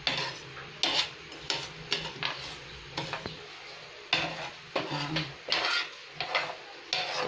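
Rice roasting in a pan for rice coffee is stirred with a utensil, giving repeated scraping strokes in an irregular rhythm with a faint sizzle underneath, close and moderately quiet.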